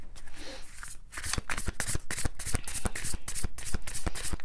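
Tarot cards being shuffled by hand, a rapid run of crisp, close riffling flicks that starts after a brief pause and continues steadily to the end.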